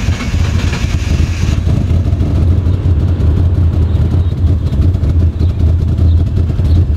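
A Mitsubishi 3000GT VR4 engine idles roughly and breaks up, a loud, close, continuous low rumble with uneven pulsing throughout.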